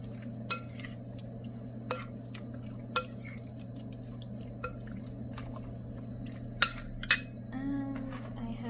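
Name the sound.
stirring garlic potatoes with seasoning in a pot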